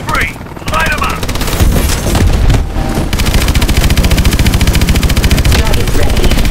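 Sustained rapid machine gun fire in a Call of Duty: Advanced Warfare boss-fight battle, loud and continuous with dense rhythmic bursts, mixed with explosions and radio chatter from in-game voices.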